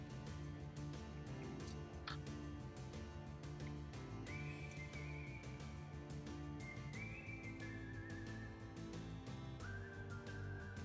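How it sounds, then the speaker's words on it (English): A cowboy-style tune with melodic whistling plays as a show's closing music, the high whistled phrases sliding over a steady backing of strummed instruments at a low, even level, with no talking. "You might recognize this as the whistling cowboy music one of the songs we typically end the show with"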